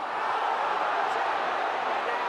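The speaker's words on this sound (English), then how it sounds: "The crowd appealing for everything now." A rugby league crowd at a Leeds versus Huddersfield match roars in a steady, dense wash of noise, loud and continuous throughout with no single voice standing out.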